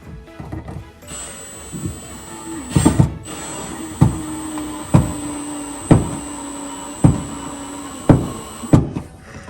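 Half-inch screws are driven into a corner sauna during installation: a power driver whines in short repeated bursts, each ending in a sharp bite as the screw seats, with steady pauses between, close and loud over a constant high hum.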